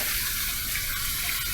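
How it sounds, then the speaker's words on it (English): Running water during a post-shave rinse at a sink: a steady, close gushing splash from a tap, even and unbroken for the whole moment. "I'm going to do my final rinse routine, warm water rinse, cold water rinse"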